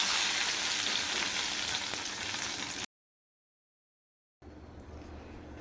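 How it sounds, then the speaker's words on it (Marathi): Hot tempering oil pours into mirchi salan gravy with a loud, close sizzle and crackle that cuts to silence midway, then returns as a quieter, settling fry. "आता आपण हा तडका आपल्या तयार ग्रेव्हीमध्ये घालून घेऊया"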